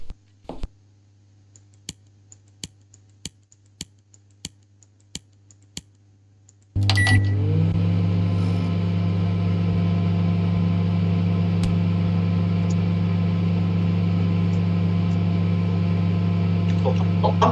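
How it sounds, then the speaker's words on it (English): A microwave oven in an escape room video game: several sharp keypad beeps spaced out over quiet, then a loud steady humming drone starts and runs on unbroken. "microwave-nya ada suara kah?"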